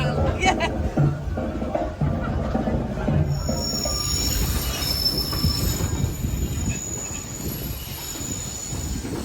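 Train wheels squeal and grind on the rails with a steady rolling rumble during a Caribbean cruise shore excursion, while voices chatter in the background throughout.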